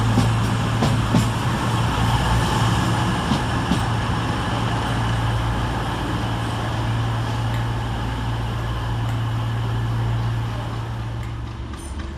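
British Rail Class 220 unit 220020, a CrossCountry diesel running from Bournemouth to Manchester Piccadilly, rumbles loudly through Leamington Spa station with a steady engine drone and dense rail roar throughout.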